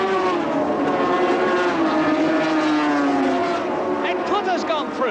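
Yamaha and Kawasaki 750cc racing motorcycles scream past at Brands Hatch in 1977, engines rising and falling continuously under a commentator's constant talk.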